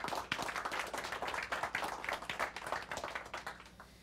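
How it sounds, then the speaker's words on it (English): An audience at an open source talk claps to welcome a speaker, a burst of close, crisp claps that stays even for a few seconds, then thins and fades toward the end. "Big round of applause."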